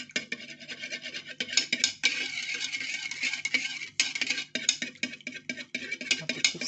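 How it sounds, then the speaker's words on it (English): An organic base cream mixture is stirred continuously until it turns clear, giving a close, steady scraping and rubbing sound in uneven strokes with no talking. "I have to keep stirring until it goes clear"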